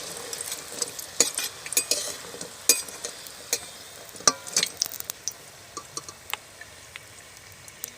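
Chicken pakoras sizzle in hot oil while being stirred, with a soft crackling fry punctuated by clinks and scrapes of a utensil against the pan, close and fairly quiet.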